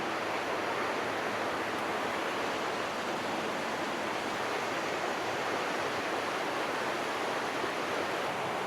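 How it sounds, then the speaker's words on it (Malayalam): River water rushes steadily right beside a campsite in Colombia, a dense, unbroken wash of flowing noise at moderate level with no voices. "ഈ റിവറിൻ്റെ തൊട്ടടുത്ത് തന്നെയാണ്, അതുകൊണ്ട് നല്ല സൗണ്ടൊക്കെ ഉണ്ട് വെള്ളം ഒഴുകുന്നതിൻ്റെ."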